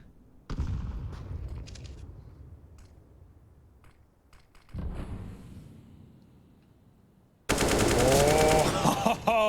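Rifle spray fire in a CS:GO pro match between Team Liquid and Fnatic on Dust2, rapid bursts of automatic shots that begin abruptly and grow loud, mixed with game sounds and a commentator's voice.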